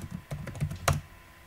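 Several quick keyboard clicks tap out in an uneven burst, close and crisp, then fall quiet.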